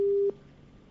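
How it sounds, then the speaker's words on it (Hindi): Busy-signal style tone of a dropped phone line during a live news call: one steady, loud beep that cuts off abruptly, followed by faint line hiss. "मेरी फोन लाइन कट गई है"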